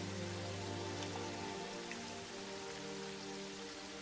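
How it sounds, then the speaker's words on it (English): Steady rain falls in the modded video game Terraria, a constant, even patter and hiss that fills the whole stretch without a break, with a low droning tone underneath and no talk over it. "It's because it's raining."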